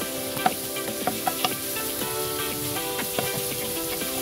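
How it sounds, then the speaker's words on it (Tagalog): Garlic and onion sauté in a little cooking oil, sizzling steadily in a pan with scattered clicks and scrapes of stirring, close and moderately loud with no voices. "gisa na natin yung bawang at sibuyas"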